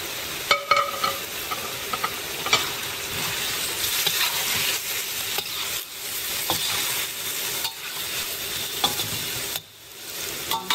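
Tofu stir-fries with bean sprouts and chives in a hot pan, giving a loud continuous sizzle broken by scraping stirs and a few short dips, close up and without speech.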